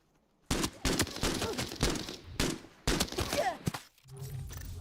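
Video game gunfire, with shots aimed for headshots, crackles in several loud, rapid bursts separated by brief pauses, with a quieter stretch at the end.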